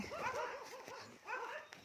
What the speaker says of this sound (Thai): หมาเห่าเยอะมากเนี่ยมันจะเป็นแบบนี้